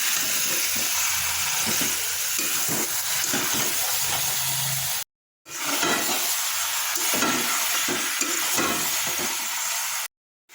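Mutton sizzles loudly in hot oil and spices as it is stirred and fried for kosha, a steady frying hiss broken by two brief silences.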